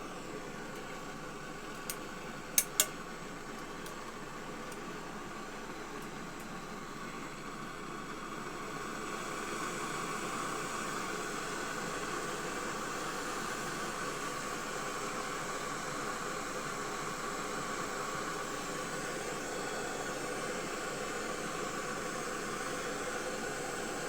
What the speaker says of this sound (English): A lot of them call them rocket stoves because how loud the flame gets.